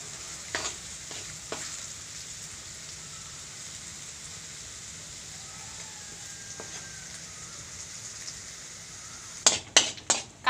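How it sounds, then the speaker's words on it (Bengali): Potato and eggplant frying together in oil for a fish dish, a soft steady sizzle under a faint hiss, with a few sharp stirring scrapes near the end. "ট্যাংরা মাছে দেবো বলে আলু আর বেগুন একই সাথে ভাজা হচ্ছে।"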